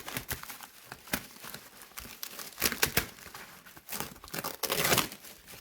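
Packaging tape ripping and crinkling as a Bride of Frankenstein animatronic Halloween prop from Home Depot is unboxed; repeated sharp tearing and rustling bursts, close and fairly loud, with no talk.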